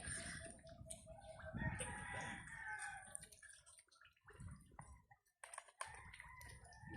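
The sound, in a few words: rooster crowing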